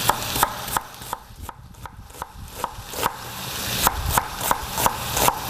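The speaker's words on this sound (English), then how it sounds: "Let that start to sizzle and make some noise here and kind of break it up a little bit." Onion sizzles and crackles in a hot pan under a steady frying hiss, with repeated sharp clicks and scrapes from stirring and breaking it up, fairly close and moderately loud, no voices.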